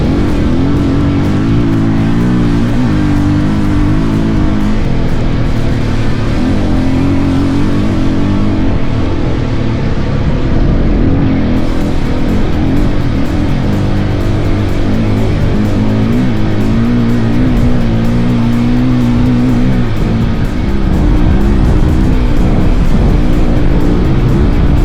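Off-road race vehicles at the Hattah Desert Race roar at full throttle along a fast, formed-up desert track section, a loud, continuous engine drone with shifting pitch and no let-up.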